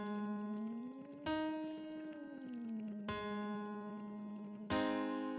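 A voice sings through a Doctor Vox SOVT tube, sliding up and down a fifth in a hummed, buzzy tone; the pattern repeats about three times, each restart sharp, heard close and alone.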